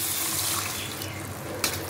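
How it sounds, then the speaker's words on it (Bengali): Coconut milk pours into a fish malaikari curry, a continuous soft liquid splash and trickle, fairly quiet and close, ending with a small splash. "এখন আমি দেবো এই নারকেলের দুধটা"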